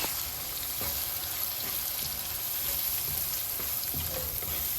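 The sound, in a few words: curry leaves sautéing in oil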